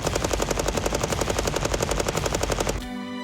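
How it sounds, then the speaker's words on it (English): A tripod-mounted machine gun on a tabletop fires a long, steady burst at about nine rounds per second, loud and evenly pulsing, then cuts off abruptly near the end, leaving a fading ringing tail. "Firing at its maximum capacity, the bullets leave the barrel at a rate of 9 per second."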